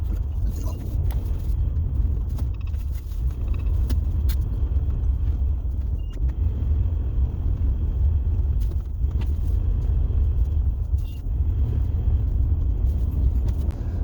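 A Jeep Gladiator drives through snow, producing a steady low road rumble close by, dotted with faint scattered clicks and crunches.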